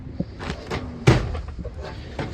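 A storage drawer full of roof cleaning supplies in a 14-foot pressure washing box truck slides shut with one sharp thud, framed by lighter clatter and rattles close by.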